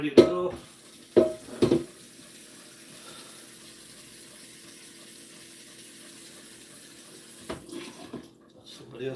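Tap water runs steadily into a pan in a home kitchen, a moderate, even rush lasting several seconds, framed by brief clunks of the pan at the start and end.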